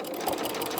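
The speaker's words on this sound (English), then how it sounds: "Then you can put your presser foot down again and just start stitching." Sewing machine stitching the fabric of a boxed outdoor seat cushion, a steady, even whir running through the short stretch at moderate level with no talk.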